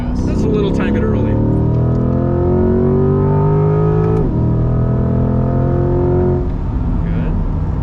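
A Corvette C8 engine drones loud and close on a race track, its pitch sweeping down under braking and shifting gears, with a driver and instructor talking over the steady engine roar.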